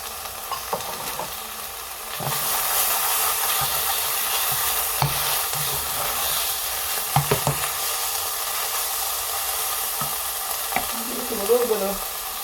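A spoon stirs a kale, egg and cheese quiche mixture in a hot pan, a constant close sizzle with intermittent scraping and clinks of the utensil against the pan.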